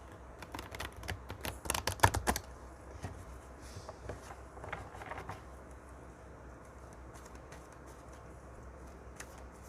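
Tarot cards are shuffled by hand in a quiet room, a quick burst of crisp riffling clicks early on that settles into faint, sparse card taps.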